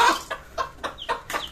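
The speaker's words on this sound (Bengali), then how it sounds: "আর এখানে একটা মোরগ আছে" A large rooster clucks close by in a rapid series of about six short, evenly spaced clucks with no talk over them.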